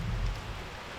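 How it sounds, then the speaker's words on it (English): Steady rain falls outdoors during a fishing trip, a continuous broadband hiss with low rumble, loud and close, no voices. "It's raining, you can tell."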